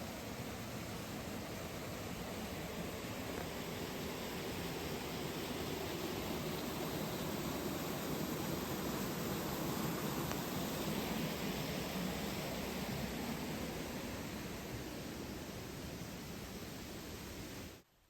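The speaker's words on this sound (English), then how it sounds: "now it's started to rain a little and it's actually hailing as well" Light rain mixed with hail patters steadily in Scottish woodland on the Black Isle, a soft, even hiss that stays constant and faint for the whole stretch before cutting off abruptly.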